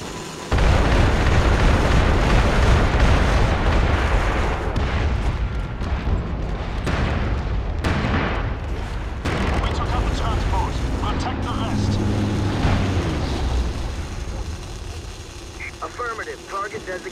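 Artillery fire mission in the video game MAG, a dense roar of heavy explosions and rumbling booms with aircraft-like drone, loud and sustained, with a radio-style voice speaking over it.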